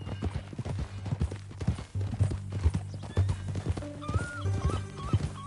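Horse hooves clip-clop steadily along with occasional whinnies in Red Dead Redemption 2, over a low ambient music bed with no talk.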